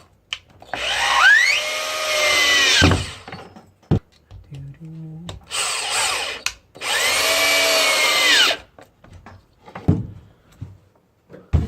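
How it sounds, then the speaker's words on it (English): A power drill drives screws while a cat condo is assembled: two long whirring bursts of several seconds each, separated by quiet handling knocks and clicks, loud and close. "Drill on down."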